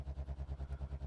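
A simulated car engine idles in the Automation game, a lumpy, loping rumble with a steady pulse of about seven beats in just over a second, heard alone.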